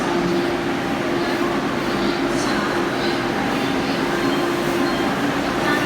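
Steady low rumble and hum inside a Vande Bharat Express train running from Banaras to New Delhi on its inaugural journey, a continuous cabin drone with faint track noise and no talk.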